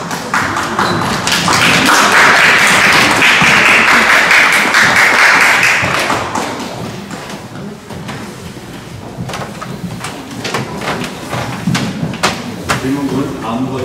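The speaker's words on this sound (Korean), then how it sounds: "박수로 진행하겠습니다" Church congregation applauds for a women's group special song at an Easter-season Sunday service in Vienna, a loud sustained clapping that fades after several seconds into scattered taps and shuffling.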